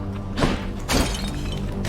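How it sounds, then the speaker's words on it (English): Clay pots smashed in the video game Hades, two loud shattering crashes about half a second apart, each a sharp break with scattering debris over a steady game soundtrack. "this is why we were smashing pots"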